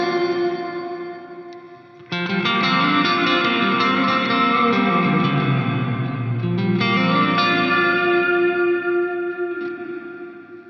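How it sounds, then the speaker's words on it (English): Electric guitar played through the Glitz reverb on a Line 6 POD Go, picked notes blooming into a huge shimmering wash of reverb that swells and sustains loudly for several seconds with no talking. "As soon as I pick the note, it's immediately followed by an enormous amount of reverb actually"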